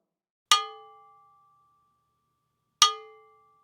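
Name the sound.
bongo bell (cowbell) struck on the side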